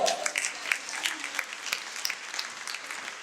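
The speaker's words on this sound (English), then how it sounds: "Please clap for yourself." Scattered audience clapping at a breast cancer awareness event, many hands clapping together fairly steadily at moderate volume, with sharp individual claps standing out from the rest.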